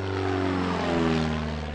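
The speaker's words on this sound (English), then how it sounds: "wonderful 1930s two-seat touring aircraft from the USA" A 1930s American two-seat touring aircraft flies past at an airshow, its propeller engine droning steadily and loudly with a strong low hum throughout, no voices.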